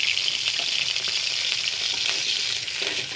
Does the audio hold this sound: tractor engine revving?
no